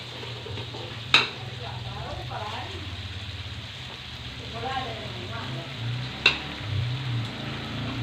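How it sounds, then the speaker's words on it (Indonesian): Ground spice paste sautéing in oil for Indonesian urap crackles and sizzles steadily up close. Two sharp metallic taps of a utensil against the pan punctuate the sizzle, and no voice is heard. "Setelah itu kita mulai menumis bumbu yang telah kita haluskan tadi."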